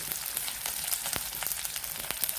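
Chopped onions frying in oil with bay leaves, green chillies, cinnamon and cardamom for an omelet curry, a close, steady crackling sizzle with dense popping and spitting, no voices.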